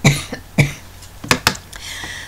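A man coughs several times close to the microphone in a classroom lecture setting, two sharp coughs followed by a quicker pair and a softer trailing one.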